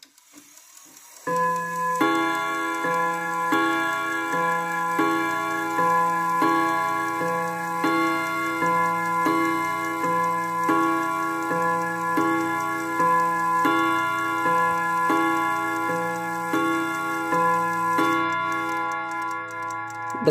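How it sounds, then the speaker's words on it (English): A Kieninger mantel clock striking its chime on rods, a long, clear sequence of ringing metallic notes at an even pace, each tone sustaining into the next, heard up close and alone. "the clock starts striking again."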